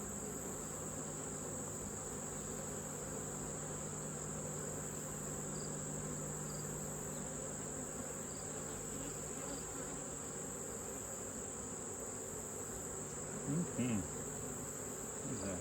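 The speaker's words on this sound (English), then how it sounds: "These are jalapeno bees." A colony of bees buzzing at a hive on an active day, a steady near droning hum that holds throughout, with a few louder buzzes passing close near the end.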